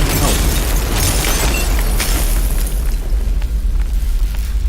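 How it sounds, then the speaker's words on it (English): Continuous heavy rumbling booms and blasts, loud and dense throughout, like overlapping game explosions with no pauses. "Turning on the explosions."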